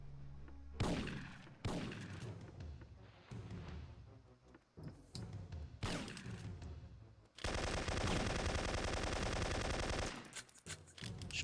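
A magazine emptied in the Syphon Filter 3 video game: several loud separate shots with echoing tails, then a sustained rapid burst of automatic fire for a few seconds, no talking.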